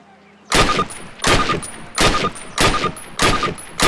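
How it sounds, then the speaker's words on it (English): Six sharp rifle shots from an M1A1 carbine in Call of Duty, fired one at a time at a steady, fairly quick pace after a short quiet lead-in, each crack loud and close with a brief tail. "Grab one of those M1A1 carbines from the table. Approach the fence and fire 6 rounds at your target."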